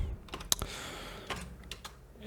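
A few light key presses on a computer keyboard while working in Blender, soft, irregular clicks close by in a quiet room.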